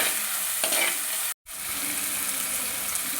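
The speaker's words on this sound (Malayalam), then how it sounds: "വഴറ്റി കൊടുക്കുക നല്ലതുപോലെ നീക്കണ്ട കുറച്ചൊന്ന് വഴന്ന് വന്നാൽ മതി" Shallots and green chillies hiss and sizzle in a pan for Kerala fish curry as a spoon stirs through them. The sound is steady and close, broken by one brief dropout.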